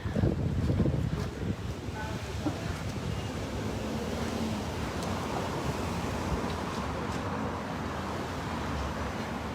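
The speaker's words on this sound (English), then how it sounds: "That wind. The wind is nice." Steady outdoor wind roars and buffets the microphone for the whole stretch, loud and broadband, a little stronger at the very start, with no voices over it.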